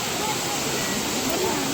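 A waterfall in Coorg roars as a loud, steady wash of falling water close by, with a voice faintly audible beneath it.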